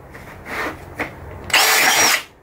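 An impact driver fitted with a Milwaukee red helix bit bores into plastic trim: two short whirring bursts, then a louder, longer drilling burst of about a second before it cuts off.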